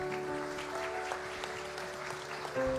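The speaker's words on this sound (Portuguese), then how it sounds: "Eu queria pedir também uma salva de palmas para os nossos jovens irmãos." Church congregation at a Seventh-day Adventist youth service applauding, a steady wash of clapping with a faint sustained tone underneath and a slight swell near the end.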